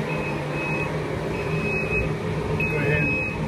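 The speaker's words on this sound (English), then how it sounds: "Go ahead and turn the alarm off" A kitchen timer alarm beeps in a steady repeating pattern at the end of a homebrew boil, faint and continuous over the hum of the brewing setup with some background noise.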